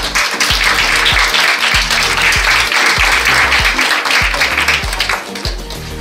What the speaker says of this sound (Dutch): dan gaan we applaus vragen voor onze kandidaat nummer 6